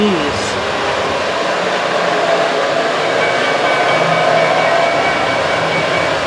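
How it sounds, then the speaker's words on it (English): An EMD diesel locomotive passing at a railroad museum in Wilmington, a loud, steady engine roar and rumble of rolling cars close by for several seconds. "Love that EMD sound."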